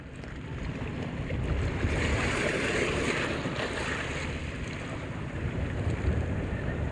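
Constant roar of rough sea and wind, with waves surging and washing steadily throughout, loud and broadband with no voices.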